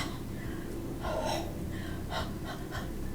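Someone breathes warm air onto a rubber stamp in a few soft, close, breathy huffs, one longer exhale followed by shorter puffs, with no talking.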